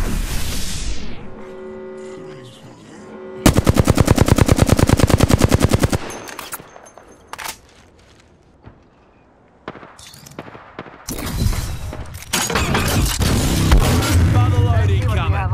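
Automatic weapons fire in the shooter video game Apex Legends in loud rapid bursts. A long sustained volley is followed by scattered single shots and another dense burst, mixed with game effects and a voice.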